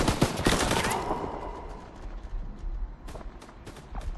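Loud, close automatic gunfire from a Call of Duty WW2 Battle of the Bulge battle: a dense rattling burst at the start fades into softer distant shots and a few scattered cracks.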